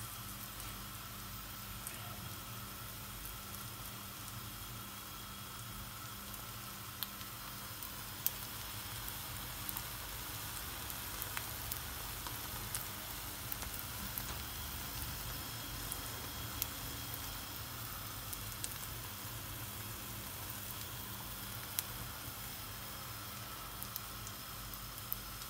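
Kaygana batter sizzles in a hot pan with a faint, steady frying hiss dotted with small crackles and pops.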